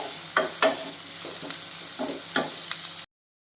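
Finely chopped onions sauté in a pan with a soft, steady sizzle, broken by several scraping stir strokes from a spatula, close up, before the sound cuts off abruptly.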